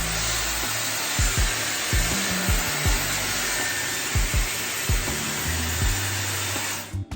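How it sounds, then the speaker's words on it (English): A Dyson Airwrap drying long, thick hair gives a steady, loud rush of air. Repeated brushing and rubbing strokes run through it until the airflow cuts off at the end. "So I'm going to just basically plug it in. So I'm going to dry my hair from this way."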